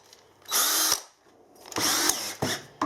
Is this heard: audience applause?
no